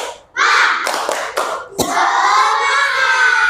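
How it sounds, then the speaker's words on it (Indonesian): A class of children claps a rhythmic spirit clap together, loud and close, with fast bursts of hand claps blending into a sustained roar of clapping. "Tepuk semangat."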